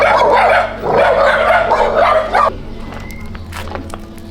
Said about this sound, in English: there's a lot of dogs here roaming around